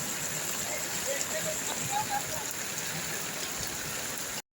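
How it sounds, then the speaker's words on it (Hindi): Heavy downpour on a road, a steady dense hiss of rain striking surfaces, loud and continuous throughout with no voices. "देखो कितनी तेज़ बारिश पड़ रही है।"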